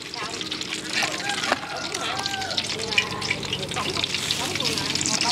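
Cakes fry in hot oil at a Vietnamese street food stall, giving a constant crackling sizzle with occasional bubbling splashes, while women chat loudly close by over the frying.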